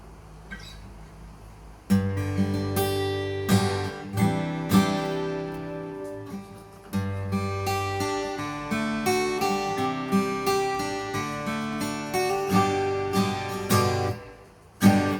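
Acoustic guitar strumming chords in a steady rhythm, close and fairly loud, microphone nearly a metre away, with brief pauses between phrases and no voices.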